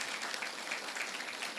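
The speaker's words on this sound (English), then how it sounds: "let's give a round of applause for Miss Serenity." At a school board meeting, an audience claps in a brief, moderately quiet burst of scattered applause heard from within the room, with no speech over it.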